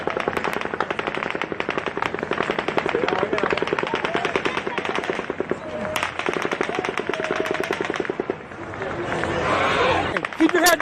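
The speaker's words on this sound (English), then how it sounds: "At 10:13 and 30 seconds, the 10th volley of automatic gunfire begins." Rapid bursts of automatic gunfire crackle continuously, dense and sharp, with a brief pause near six seconds, while people shout and a crowd is heard in the background.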